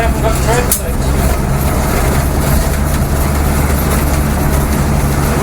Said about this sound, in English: The windows are rattling properly,